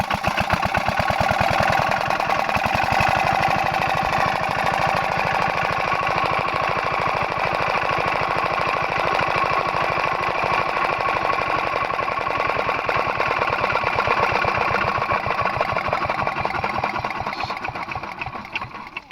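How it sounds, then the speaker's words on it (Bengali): A water pump draining a pond runs as a loud, steady engine with a fast, even mechanical chugging that continues without a break before fading slightly at the end. "ওয়াটার পাম্প দিয়ে জল শুকানো হচ্ছে পুষ্করিণীর।"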